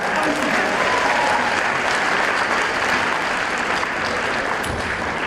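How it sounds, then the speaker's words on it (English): A large audience at a high school graduation ceremony applauds the teachers as they arrive, producing steady, dense clapping that fills the space and holds for several seconds without a break. "Please applaud the teachers as they come at this time"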